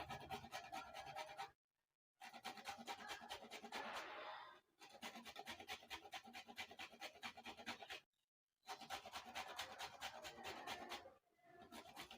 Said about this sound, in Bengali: এই আদাটা আছে, এবার ঘষে দেবো কাঁচা